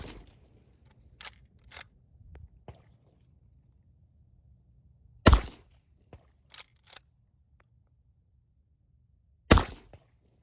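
A Rossi R92 lever-action rifle chambered in .44 Magnum fires at an outdoor range: two sharp, loud reports several seconds apart, with quieter metallic clicks of the action between them and no talking.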